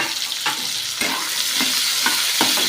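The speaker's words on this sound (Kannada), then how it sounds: "ಬೆಳ್ಳುಳ್ಳಿ ಹಾಕಿದ್ಮೇಲೆ ಸ್ವಲ್ಪ ತೆಂಗಿನಕಾಯಿ ಹಾಕೊಂಡು ಅದನ್ನು ಕೂಡ ಫ್ರೈ ಮಾಡ್ಕೋಬೇಕು." Garlic and grated coconut frying in a pan for dosa chutney, a loud continuous sizzle broken by regular stirring scrapes about every half second, no talking.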